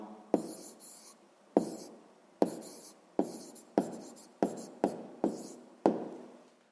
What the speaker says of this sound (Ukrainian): Тоді записуємо відповідь.